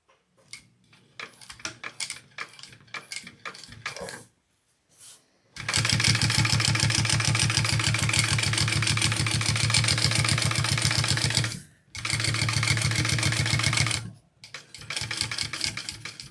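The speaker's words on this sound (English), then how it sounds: "I'm just back stitching." A sewing machine back stitches a handbag in long continuous runs, loud and close, with short pauses between bursts and lighter mechanical clicking before the main stitching.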